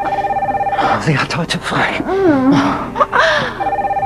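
An electronic telephone rings in repeated trills at the start and end, with someone speaking German over the middle of the ringing.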